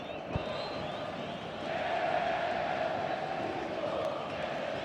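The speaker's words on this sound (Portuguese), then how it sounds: "Aumenta o volume da torcida gremista no Olímpico" Grêmio supporters roar inside the Olímpico stadium during a match against Flamengo, a broad continuous crowd din that swells slightly partway through, heard under a commentator's voice.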